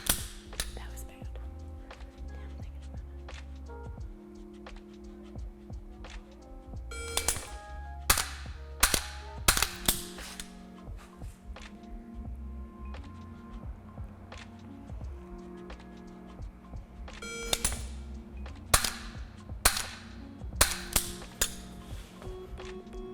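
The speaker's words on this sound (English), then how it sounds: "So 3 shots, 3 targets." Rifle shots from a Sig MCX during shooting drills: several clusters of sharp, loud cracks, some in quick pairs or triples, over a low background hum and faint activity.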